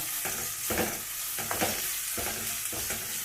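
Green chillies and onions frying with salt for spinach rice, a steady bright sizzle broken by rhythmic stirring scrapes about once every second, close and alone.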